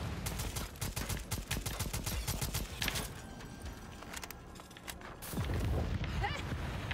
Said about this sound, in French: les explosions sont super bien foutues.